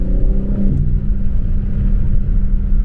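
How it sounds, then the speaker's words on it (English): A BMW M3 Competition with a 3-liter twin-turbo inline-6 accelerates past, a loud, steady low engine rumble and drone filling the whole moment, its pitch shifting slightly as it passes. "do like a pull for the, so you can get a flyby and hear what it sounds like"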